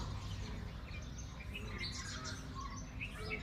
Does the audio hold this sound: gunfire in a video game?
no